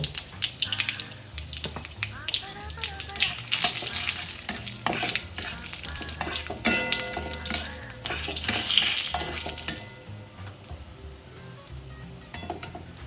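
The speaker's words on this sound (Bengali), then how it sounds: "একটু জিরে গুঁড়ো, গোটা জিরে দিলাম আর দুটো তেজপাতা দিলাম ফোড়নে।" Whole cumin, ground cumin, a dried chilli, bay leaves and asafoetida sputter in hot oil for dum aloo, loud crackling sizzle with frequent utensil clinks and scraping, easing toward a quieter fry near the end.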